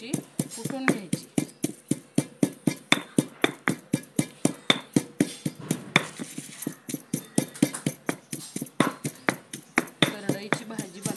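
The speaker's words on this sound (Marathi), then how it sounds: "आता हे छानपैकी कुटून घ्यायचं आहे आपल्याला। लसूण आणि मिरची कुटून घ्यायची।" Garlic and chili are pounded with salt in a quick, steady rhythm of sharp, close knocks, roughly three strikes a second that continue evenly throughout.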